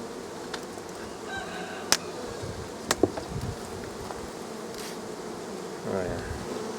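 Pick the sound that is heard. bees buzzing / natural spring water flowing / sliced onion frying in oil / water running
bees buzzing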